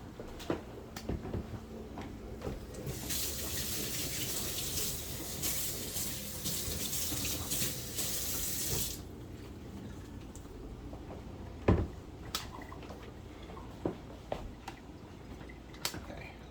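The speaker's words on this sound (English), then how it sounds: "So I'm going to run this under water." Tap water runs steadily over a tea towel for several seconds, a broad hiss close by, then cuts off, leaving quiet handling clicks and small knocks.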